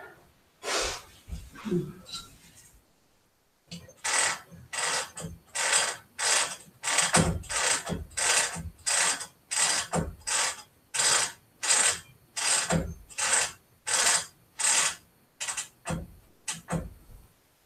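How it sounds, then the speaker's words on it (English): A quilt is rolled onto the bottom roller of a machine quilting frame, producing a steady series of regular ratcheting clicks close by, following a brief opening of breathing and handling noise. "We need to get it rolled onto the bottom roller"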